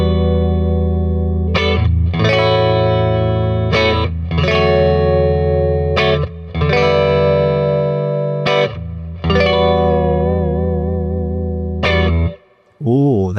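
A Johnny Marr Jaguar electric guitar with its bridge and neck pickups in parallel plays loud, ringing chords through effects, struck in a series of sustained strums with short gaps, the last notes wavering before a quick cut.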